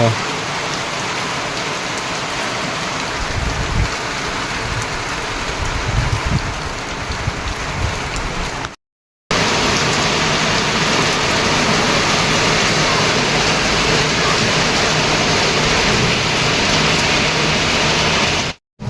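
Rain falling at a bus stand, a loud, close, steady patter on surfaces that cuts out briefly midway and then resumes just as dense until the end.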